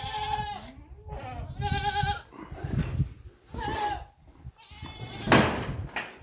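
Several goats bleat close by, overlapping wavering cries in quick succession, with some shuffling and a thump between calls.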